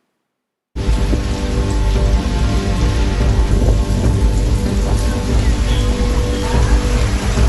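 Heavy summer rain and wind in Mukkam, Kerala, roar loudly and continuously at close range after a brief silent start. The downpour is dense and steady with no pauses.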